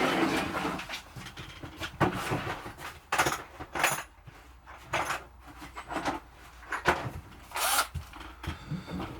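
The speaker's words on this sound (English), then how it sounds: "I'm going to start off drilling a 2mm hole" A handheld power drill boring a 2mm hole in a Yuneec ST16 remote controller, heard in short intermittent bursts with pauses between, close and fairly quiet, no talking.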